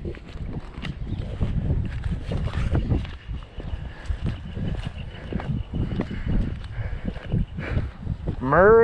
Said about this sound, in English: Sorry guys, if it's real windy.